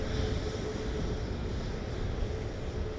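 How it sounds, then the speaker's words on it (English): Aircraft arriving at Dallas Love Field, a steady, broad engine roar held constantly throughout at moderate loudness, with no talk over it. "Looks like we've got a parade of planes coming in."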